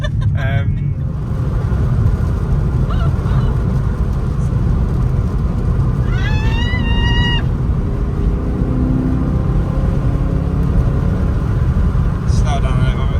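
A Frozen Grey BMW E92 M3 engine revved hard in low gear while driving, a loud steady drone inside the cabin with rising and falling pitch, voices talking over it.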